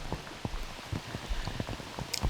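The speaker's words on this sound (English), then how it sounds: "it was the thickest rain we've had all season" Heavy rain with thick drops falls during an outdoor disc golf world championship round, a steady patter with distinct individual drop impacts scattered throughout, fairly quiet and without voices.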